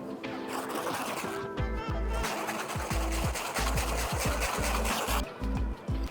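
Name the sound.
whisking butter into crème pâtissière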